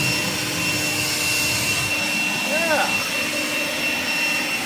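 Kobalt 40V battery snowblower running continuously with a loud, steady whirring roar, close by, with a brief voice under it.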